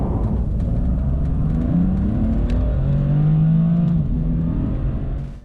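A 2018 BMW M4 CS accelerates hard from 30 to 70 mph, heard from inside the cabin as a loud, continuous engine roar that climbs in pitch through the gears with brief shift dips, alone without talk.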